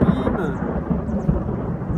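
Rumbling thunder from a nearby lightning strike during rain, a continuous loud low roll filling the whole moment with no talk over it.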